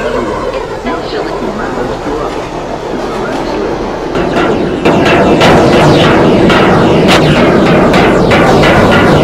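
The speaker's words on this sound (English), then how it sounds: "Train is now arriving on the local track." A transit train pulls into a station platform. A distant rumble swells into a louder rolling roar with rail clicks and squeals, and a public-address voice speaks over it.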